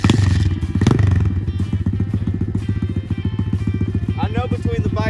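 A motorcycle engine left idling outdoors, a loud steady low rumble with rhythmic pulsing throughout, joined briefly by a thump and some clatter.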